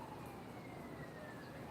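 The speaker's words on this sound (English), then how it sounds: "See this sirens? I hear these sirens all the time." Distant emergency vehicle sirens outside, a faint wailing tone sliding slowly downward beneath a low background hum.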